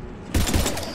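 A short burst of gunfire in the Mass Effect 3 video game, a sudden loud rapid volley of shots that starts partway in and rings out briefly.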